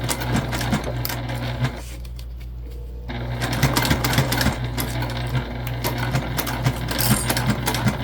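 Close and loud, a sewing machine stitches webbing on a travel sling bag, a continuous rapid mechanical chatter with a short pause midway before it resumes, running steadily throughout.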